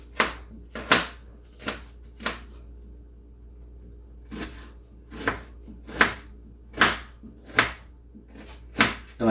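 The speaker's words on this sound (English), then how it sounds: "I've got 2 large onions I'm chopping up right now," Knife chopping two large onions on a cutting board, sharp rhythmic thuds in short bursts with a pause in the middle, close and crisp against a quiet background.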